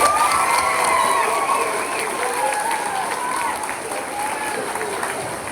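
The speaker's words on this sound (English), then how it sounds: "Give her a round of applause." A middle school honors day audience applauds and cheers for a sixth-grade student, with loud, sustained clapping and children's shouts that ease slightly as a voice speaks over them.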